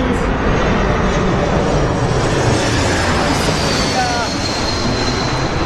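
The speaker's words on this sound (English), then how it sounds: "Well, Jerry, behind you, CS100, right over your head" A Bombardier CS100 jet passes overhead at London Heathrow, a loud continuous broadband engine roar filling the whole span with steady rumble and hiss, close and dominant.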